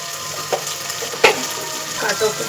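Vegetables for Kannada-style tomato bath sizzle steadily in a pan, with a few sharper scrapes and clanks of a spoon stirring them; no voices.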